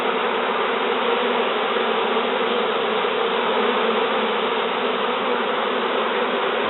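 Honeybees swarming in a sofa make a dense, continuous buzzing drone, loud and close, with many wings fanning at once and no voices.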